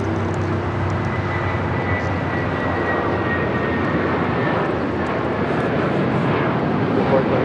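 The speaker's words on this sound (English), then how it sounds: "This is United Airlines Flight 1400 taking off to Chicago on a 757-300." United Airlines Boeing 757-300 taking off from LAX, a loud, broad jet engine roar filling the whole stretch, steady and close with a slowly shifting tone.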